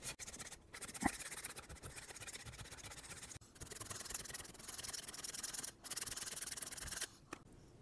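Sandpaper rubs over a handmade wooden Danish dough whisk in steady, close scratchy strokes that run almost continuously, broken by a few brief pauses and a light knock.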